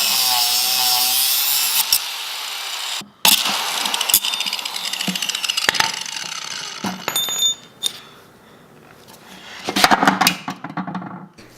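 A power grinder shaves off a stuck brake booster clevis nut on a BMW E30, loud harsh metal grinding in several bursts with brief stops, close up.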